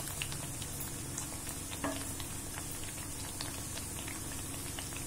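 Methi spring rolls fry in hot oil, giving a soft, steady crackle and bubbling with scattered pops, fairly faint and uninterrupted by speech.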